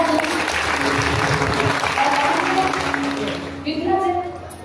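An audience at a kirtan applauds the children with loud, sustained, dense clapping that fades toward the end as voices come through.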